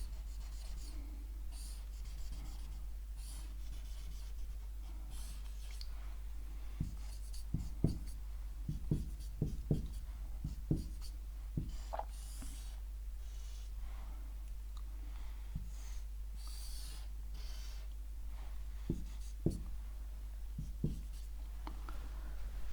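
Marker or chalk scrapes across a board while an equivalent resistor circuit is drawn, a run of short, faint strokes and taps in irregular bursts over a steady low hum.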